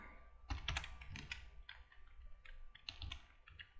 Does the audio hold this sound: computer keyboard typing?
yes